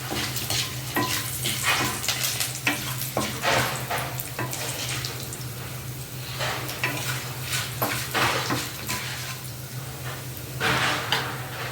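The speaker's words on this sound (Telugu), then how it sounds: "ఇప్పుడు ఈ ఆయిల్లోనే, నూనెలోనే మినపప్పు ఆవాలు జీలకర్ర 2 ఉడకాయలు వేసాను" Urad dal, mustard seeds and cumin crackle and sizzle in hot oil in a pan while raw banana fry is being cooked, a steady spitting hiss with scattered pops and stirring scrapes running throughout, close and fairly loud, with no talk.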